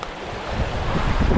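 Water flowing steadily through a drainage ditch on a rural property, a broad, continuous rushing wash, fairly close and alone with some wind buffeting.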